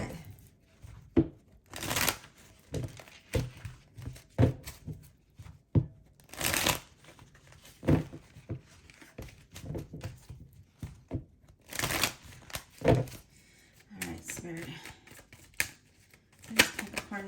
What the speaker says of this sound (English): I'm going to do a quick shuffle because nothing is coming out.